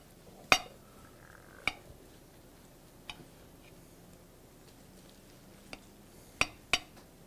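A knife cuts through meatloaf in a meatloaf pan, giving a handful of sharp, isolated metallic clinks and taps spaced a second or so apart against a quiet background.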